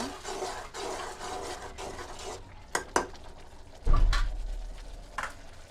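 Bata fish dropped into spice paste frying in oil in a pan, with a sizzling hiss, a few sharp clinks and a heavier thud as the fish goes in, followed by louder frying.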